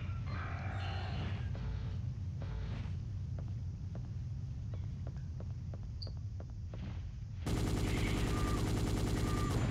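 Rifle gunfire in the video game Dino Crisis 2, a series of sharp rhythmic shots over a low game rumble, followed by a loud dense burst of noisy effects at the end.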